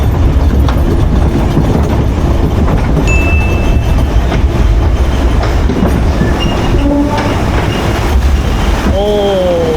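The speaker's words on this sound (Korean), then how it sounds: "엄청 덜컹거려요 생각보다" A flume ride car at Siam Amazing Park in Bangkok rattles and clatters loudly and continuously along its track, with squealing wheel tones near the end and occasional voices underneath.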